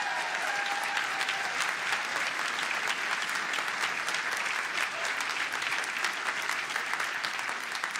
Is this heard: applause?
yes